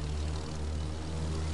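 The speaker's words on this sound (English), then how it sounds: "It's quite tricky to control this plane" A plane's engine drones steadily while flying in the racing game The Crew 2, a continuous low propeller hum with a buzzing tone, moderately loud and unchanging through the short stretch, with no talk over it.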